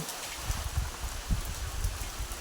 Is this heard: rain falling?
yes